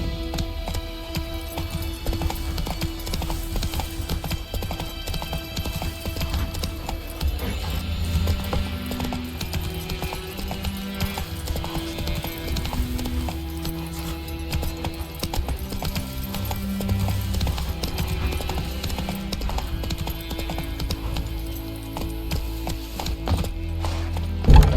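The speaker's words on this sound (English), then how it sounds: "Run, Roach." Roach the horse galloping in The Witcher 3, a steady rhythmic run of hoofbeats over a continuous game soundtrack with layered music and ambience.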